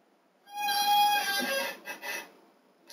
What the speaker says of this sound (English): Sorry about the noise with the chair.